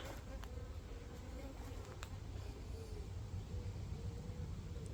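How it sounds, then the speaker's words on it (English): A wasp buzzing around outdoors, a faint, thin drone that wavers in pitch as it moves about, set over low steady background noise with a few soft clicks. "Just another wasp again."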